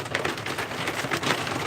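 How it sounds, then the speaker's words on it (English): Hail pelting a sailboat on the Hood Canal, a dense, irregular patter of hard impacts hitting the deck and rigging, steady and close, with no voices. "Oh, wow, we're getting hail."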